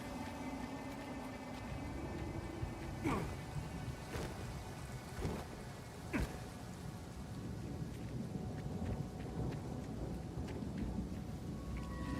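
Video-game thunderstorm with steady rain hissing throughout and several sharp, loud thunder cracks from lightning strikes spaced a second or so apart.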